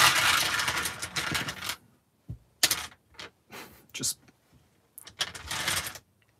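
Dice clatter and rattle in the video game Dice Miner Deluxe as a shuffle plays out in several short bursts, loud and close, with brief gaps between them and a voice talking over parts.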